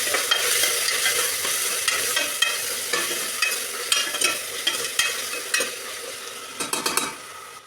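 Garam masala, coriander powder and biryani masala stirred into chicken curry frying in a pan, with a steady sizzle under repeated scraping strokes and clinks of a spoon against the metal, growing choppier toward the end.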